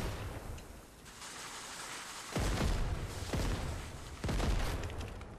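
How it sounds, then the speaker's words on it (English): Explosions in a Fortnite horror map game: three heavy booms land about a second apart, each a sharp burst fading into a rumbling tail over a steady background hiss. "Oh my god, so many explosions."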